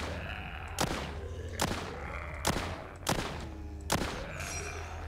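Gunfire in The Walking Zombie 2 mobile zombie shooter game: five sharp, loud single shots at uneven intervals of roughly a second, each with a short decaying tail over a steady low game hum.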